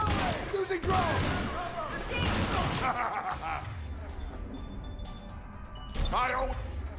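Rapid bursts of gunfire and explosions in a chaotic Mass Effect firefight aboard a ship, mixed with shouting voices and crashing impacts.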